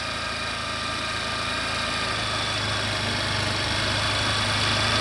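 A Suzuki Hayate motorcycle engine runs during engine fitting and tuning, holding a steady, dense, continuous drone close to the listener with no talk.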